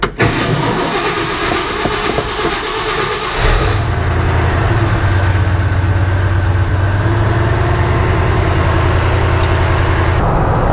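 A Ford F100 truck's engine cranks and catches, then settles into a steady, loud, close low rumble that carries on without a break.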